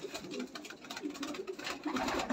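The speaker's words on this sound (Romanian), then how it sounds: "pentru mine toți porumbeii care i-am în cușcă sunt valoroși" Pigeons coo continuously inside a loft cage, several birds producing overlapping low, throaty rolling calls close by, with steady rustling and no clear talk.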